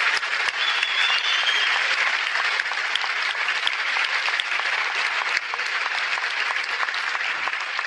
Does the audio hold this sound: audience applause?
yes